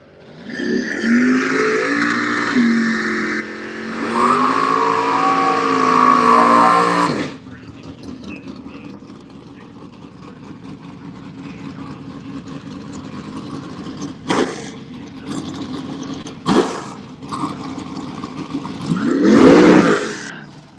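A drag racing Chevelle at a street car shootout, its engine revving loudly in sustained roaring bursts, followed by quieter idling and a final rev; a voice talks briefly.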